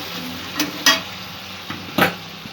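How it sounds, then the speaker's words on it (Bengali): A spoon scrapes and knocks against a pan while yogurt is stirred into a potato and okra curry, giving a few distinct clinks and scrapes over a soft background hiss. "2 চামচ দই দিয়ে দিলাম। ভালো করে মিক্স করে নেব।"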